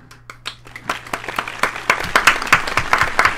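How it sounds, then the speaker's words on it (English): Claps building from a few scattered hand claps into faster, denser clapping by several people, close and fairly loud, with the rhythm growing busier as more join in. "Everyone give him a clap."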